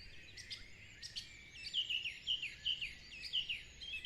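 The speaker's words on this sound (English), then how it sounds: "Where are they calling you to go?" Birdsong in a natural outdoor setting: a few isolated sharp chirps, then a rhythmic series of repeated tweeting calls at moderate distance, steady and clear over a quiet hiss with no voices.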